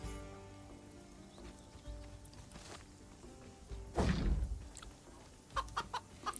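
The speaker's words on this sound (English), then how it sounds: "Hello, chicken." Chicken clucks from the game Titan Quest 2, a few short bursts near the end standing out over a busy, low rumbling game soundscape with music-like tones.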